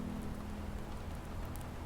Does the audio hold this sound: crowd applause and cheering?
no